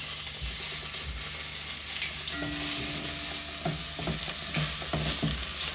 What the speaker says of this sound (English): I'm going to stir fry my garlic.